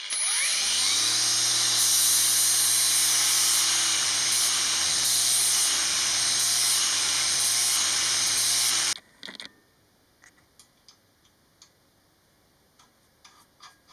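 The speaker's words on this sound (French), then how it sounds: "rien de mieux qu'un bon coup de meuleuse avec disque à lamelles" An angle grinder with a flap disc grinds down a cut screw in metalwork, giving a loud, steady, whining roar for about nine seconds. It then cuts off, leaving a few light clicks.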